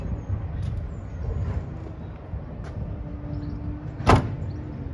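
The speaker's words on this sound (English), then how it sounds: "I always thought having an electric operated boot in a car is a bit fancy" A Tesla Model 3's electric boot opens with a low mechanical whir under steady background noise, ending in a single sharp, loud clunk near the end.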